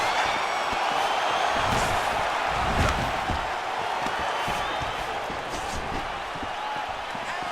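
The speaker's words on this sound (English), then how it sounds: "you hear the crowd react every time they come together" Arena crowd noise from EA Sports UFC 4 during a fight, a steady broad roar swelling with sharp thuds and surges as strikes land, loud and continuous throughout.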